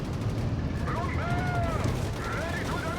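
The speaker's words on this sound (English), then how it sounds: "Rifle being mauled here with the machine gun fire" Machine gun fire rattles through a loud World War II battle in Company of Heroes 3, a dense stretch of gunfire and blasts with a commentator speaking over it.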